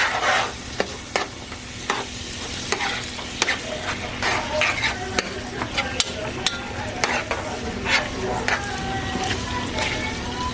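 Ground meat frying in a pan for lasagna, stirred and broken into smaller pieces with a utensil, giving a steady sizzle punctuated by repeated sharp scrapes and clicks against the pan, close up.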